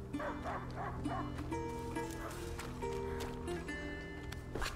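A dog in A Plague Tale barks repeatedly at a distance, the sharp yips and woofs partly buried under a layered sustained tonal backdrop and soft rustling movement.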